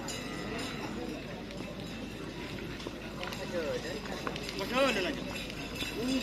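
Racing bulls' hooves pound along the track at a karapan sapi bull race, a rapid running patter mixed into a noisy outdoor crowd with people talking.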